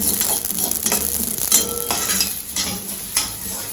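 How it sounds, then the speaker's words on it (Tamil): Poppy seeds dry-roast in a hot pan with a soft crackle, as a utensil scrapes and stirs them in repeated strokes, close up and without speech. "கைவிடாம ஓரளவுக்கு தீ வச்சு வறுத்துடணும்"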